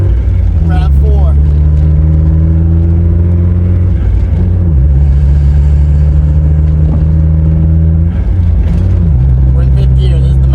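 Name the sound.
Mazda Miata engine accelerating in fifth gear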